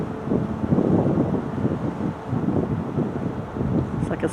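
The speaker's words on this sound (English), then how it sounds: "We're just sailing out of Juno now." A ship sails out of Juneau, Alaska, heard as a steady loud rush of wind and engine rumble with water wash underneath, continuous and close, with no clear talk.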